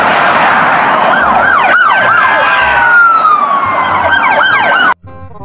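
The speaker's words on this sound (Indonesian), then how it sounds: "kalau yang ini mobil polisi Fortune" A toy police car siren wails loudly and close, with repeated rising and falling sweeps that run steadily before cutting off abruptly near the end.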